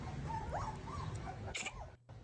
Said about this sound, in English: Blue Healer? That's a cute little dog.